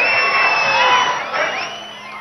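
A rally crowd at a Telangana political gathering roars with sustained cheering and whoops, loud and dense throughout, fading slightly toward the end.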